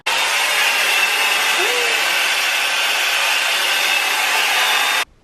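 Hair dryer blowing at close range in an airport hotel room, a loud, steady whooshing roar that runs unbroken for several seconds and then cuts off abruptly.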